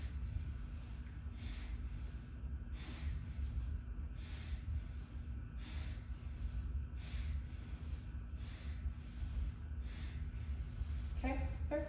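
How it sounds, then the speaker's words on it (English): A patient draws a series of deep, steady breaths during a lung exam of the anterior lobes, each inhale-exhale a soft airy rush repeating about every second over low room hum. "Big breath."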